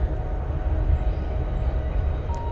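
A train rumbles past near the woods, a steady low roar of railcars rolling on the track, close and continuous with no voices.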